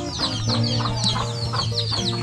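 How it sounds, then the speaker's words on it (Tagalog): Chickens clucking close by, repeated overlapping clucks over a steady low hum, with no speech. "Papakain ka ng manok?"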